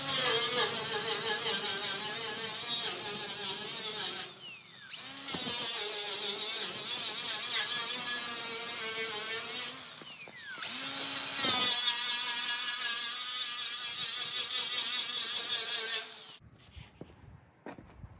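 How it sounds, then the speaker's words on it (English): A Diablo wire wheel on a power tool grinds rust off a steel horse trailer with a loud, harsh whirring buzz, broken by two short pauses, and it stops near the end. "I'm just gonna see what this wire wheel can do. It's a Diablo."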